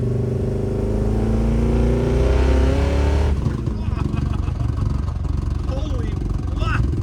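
A 1958 Plymouth barn find, running again after 30 years, accelerates hard at full throttle, its engine roaring loud and close with rising tones before the note drops away into rough, rumbling noise.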